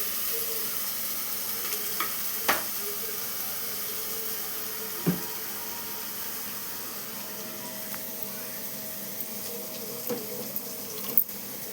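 Marinated chicken fries in a pan with a continuous moderate sizzle, broken by occasional clicks and scrapes as the pieces are moved.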